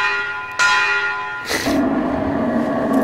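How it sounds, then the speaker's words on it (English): A bell is rung in the video game Metro Exodus, with two clear clangs whose bright metallic tones ring on and decay, the second strike fuller and longer, and no talking during the clip. "Let's ring this bell."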